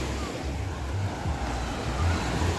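Steady broadband rush of river water flowing at Bluefields, Westmoreland, Jamaica, heard outdoors with some wind buffeting the microphone, continuous and fairly loud with no one talking.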